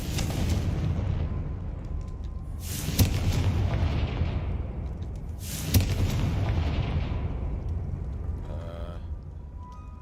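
Confringo fire-blast spells explode in the video game Hogwarts Legacy, two deep booming blasts a few seconds apart, each rolling into a long rumbling decay over steady game noise.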